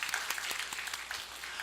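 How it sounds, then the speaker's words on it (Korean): Brief applause from a church congregation during a Sunday sermon, steady dense clapping at moderate distance filling the short moment without talk. "우리 오세성 권사님 박수 한번 쳐주셔."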